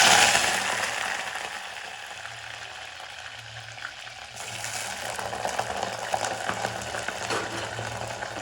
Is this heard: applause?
no